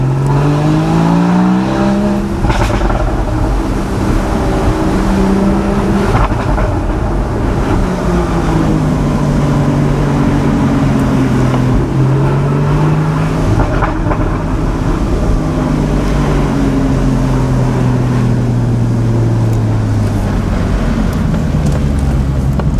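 Porsche Boxster GTS 981 with a 3.4 engine climbing an Alpine road, its engine droning loudly inside the cabin, pitch rising and falling through gear changes and revs for the whole stretch.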